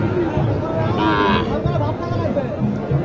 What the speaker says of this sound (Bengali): এটা হচ্ছে ক্রস জাতের ষাঁড় গরু দেখাচ্ছি আমি আপনাদেরকে